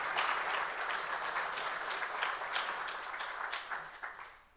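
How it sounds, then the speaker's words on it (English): An audience claps steadily at a morning forum gathering, dense at first and then thinning into scattered claps before fading out at the end. "Let's give him another round of applause."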